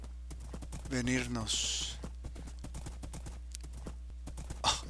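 Horse hooves clop in a rhythmic, fairly close series, with a whinny-like burst and a voice speaking briefly over them.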